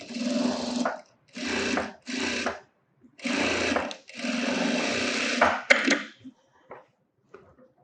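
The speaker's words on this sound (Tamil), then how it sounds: "நான் சும்மா ரஃப்பாக இப்போ தையல் போடுறேன்" A sewing machine stitches a blouse in several loud close bursts of rapid whirring, separated by short pauses, ending with a few faint clicks and handling noises.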